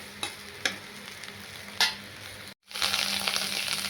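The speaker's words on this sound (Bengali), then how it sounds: "আদা আর জিরে দিয়ে ভাজছি" Ginger and cumin fry in a hot pan with a steady sizzle, broken by a few sharp scraping stirs. After a brief cutout the sizzle returns louder and brighter, close up with no voices.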